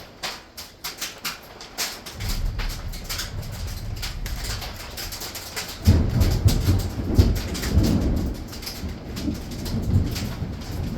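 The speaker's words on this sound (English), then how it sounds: "Man, this hail is not good." Hail and a thunderstorm outdoors, with a sharp patter of hailstones on surfaces and a low rumbling swell that grows heavier midway, steady and moderately loud with no talking.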